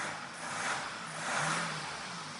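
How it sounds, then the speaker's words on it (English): A Mazda car engine, newly repaired after four years as a non-runner due to a faulty sensor, runs steadily with two gentle swells in revs, a continuous mid-pitched drone with no voices. "we should have a nice running engine that should rev and behave itself"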